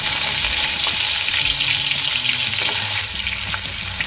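Garlic-ginger paste hitting hot oil in a pan, a dense, loud hissing sizzle that eases slightly after about three seconds, with a few faint stirring knocks and no talking.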